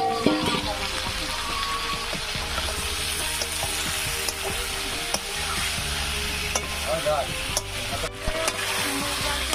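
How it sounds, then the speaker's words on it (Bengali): Boiled potato and green banana are sautéed in spiced oil for a fish curry, with a steady close sizzle and repeated stirring and scraping strokes throughout. "আলু সিদ্ধ কলা সিদ্ধ দিয়ে দেবো, দিয়ে এদিকে কষায় নেব।"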